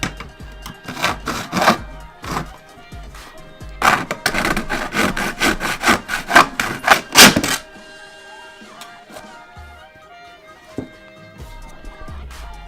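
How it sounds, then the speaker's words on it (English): A kitchen bread knife saws through a roller blind in quick, rhythmic rasping strokes, loud and close, in bursts for about seven seconds before fading to quieter rubbing and faint background noise. "I've resorted to the kitchen bread knife."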